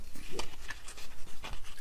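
Close, quiet rhythmic panting from a dog: short, breathy huffs repeated in quick succession with no talking.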